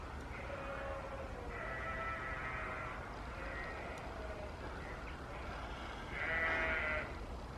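Sheep bleat near Stonehenge, several drawn-out calls coming and going at a moderate distance over a steady wind-blown rumble.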